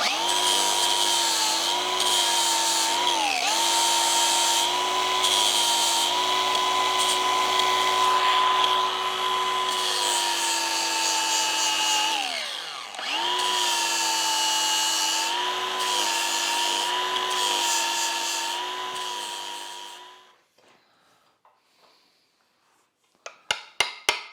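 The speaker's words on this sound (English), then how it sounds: "What I'm going to use to clean it up is this little flap disc on my angle grinder" An angle grinder with a flap disc grinds JB Weld off a Mercruiser 120hp outdrive cavitation plate from a 1976 Starcraft boat. It gives a loud, sustained high-pitched whine with brief dips under load, then winds down into silence, followed by a few sharp taps.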